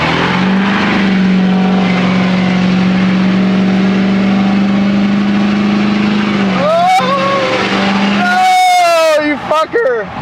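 Ford 6.7 and 7.3 Powerstroke diesel pickup trucks racing each other, a long steady engine drone followed by rising revs and tire-squeal-like sweeps near the end, loud and close.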